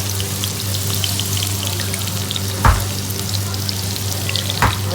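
Garlic ginger paste frying in a pan, a steady close sizzle throughout with two brief louder bursts of spattering, and no voices.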